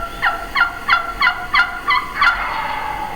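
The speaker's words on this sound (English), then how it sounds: "A different turkey Real high answered her." Live wild turkey hen yelping high-pitched, a run of about seven short, evenly spaced yelps, loud and close, the last notes blurring together.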